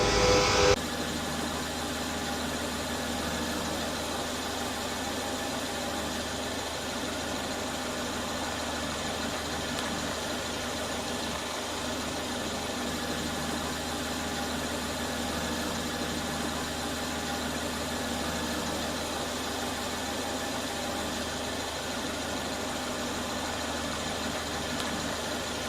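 Mercedes engine idling steadily after start-up, a constant low hum with faint vibration, even and fairly quiet throughout with no talk.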